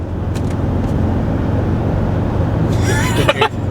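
A 2001 Land Rover Discovery 2 with the TD5 diesel engine is revved and held near 2,500 rpm, giving a steady, fairly loud low drone throughout, with a brief sharp noise near the end.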